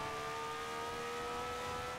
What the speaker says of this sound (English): Listen to the engine scream!